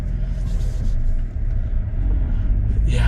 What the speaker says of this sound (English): in the Cybertruck, backing out of the driveway right now.